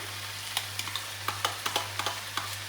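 Onions sautéing in a pan with green chili and ginger go in to a soft steady sizzle, punctuated by a string of crisp stirring clicks at an irregular pace over a low hum, no talk.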